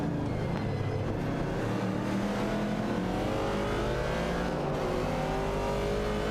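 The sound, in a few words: race car engines in an AI racing video game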